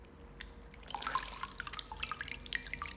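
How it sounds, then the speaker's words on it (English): Water drips and trickles as excess water is squeezed from cleaned shiitake mushrooms by hand, a faint, scattered patter of droplets with no talk. "Squeeze out the excess water."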